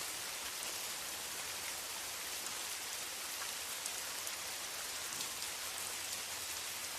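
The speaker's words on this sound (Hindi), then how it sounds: "एक लम्हे आसमान साफ था और अगले ही लम्हे बारिश शुरू हो गई" Steady heavy rain pours down, a dense unbroken hiss of drops hitting surfaces, constant throughout with no voices.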